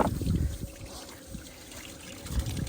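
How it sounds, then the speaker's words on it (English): Water trickles and splashes into a farm animal's water container in winter. The flow is soft and irregular, with small bursts of dribbling and low background noise. "Oh, I'm overflowing the water already."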